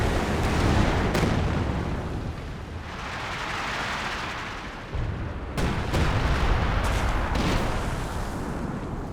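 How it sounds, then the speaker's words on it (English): Artillery shells from a time-on-target barrage crash down in a Company of Heroes 2 match, a dense rolling wall of booms and rumbling blasts with sharper impacts near the middle and end, loud and continuous. "Time on target coming down somewhere."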